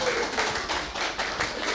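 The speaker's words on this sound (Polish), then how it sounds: "Wielkie brawa dla nich." A preschool audience at a patriotic song contest in Tarnobrzeg claps for the winning kindergarten. The dense, steady clapping fills the whole moment, mixed with crowd voices.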